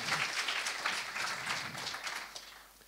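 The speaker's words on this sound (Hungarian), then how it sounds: "Tapsoljuk meg a Robi." A studio audience at a talk show gives a dense burst of applause, loud at first and gradually fading over about three seconds.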